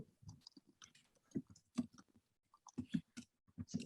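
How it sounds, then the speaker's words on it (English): Keys on a keyboard click in quiet, irregular bursts of soft taps, faint and close, with short pauses between runs of typing. "Some typing going on, I think"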